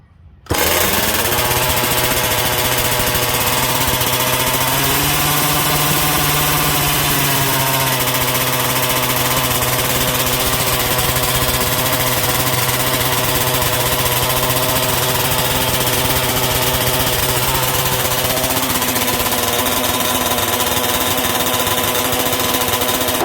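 A 71cc gas engine on an MCD XR5 RC car starts abruptly and runs steadily, a loud, buzzy, rattling idle with a slight pitch rise around five seconds, close-up and continuous with no talking.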